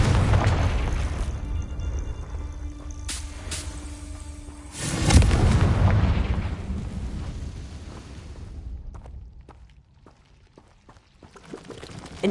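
A Confringo blasting spell explodes in the video game Hogwarts Legacy, a loud burst with a deep boom that rolls and fades into crackling debris and a quieter tail.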